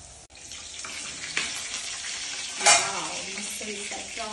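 Prawns fry in a hot pan for a Sunday-special prawn fry, with a steady sizzle, stirring clatter and a brief louder burst of spitting partway through, with no talking.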